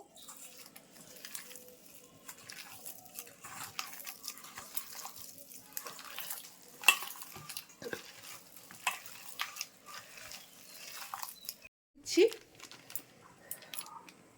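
Raw banana fritter batter made with gram flour is stirred and mashed by hand in a bowl, giving soft, irregular squelching and scraping sounds, with quiet kitchen noise and someone speaking at times.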